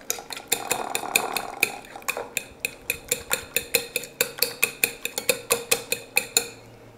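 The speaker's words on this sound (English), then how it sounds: "I'm going to beat it up. This is going to coat our fillets so the breadcrumb mixture will stick to them." Egg-style coating mixture for fish fillets beaten briskly in a bowl, a fast run of sharp, evenly spaced utensil clicks against the dish, close and steady, speeding into a tight rhythm toward the end, with no voices.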